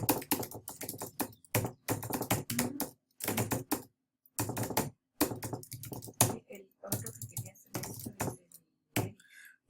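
Close computer keyboard typing in quick bursts of clicking keystrokes, broken by short pauses, with no talking.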